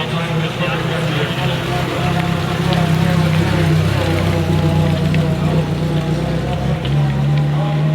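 Alvis Speed 25 SC car engine idling steadily nearby, a continuous low mechanical drone that holds for the whole stretch with slight variations in tone.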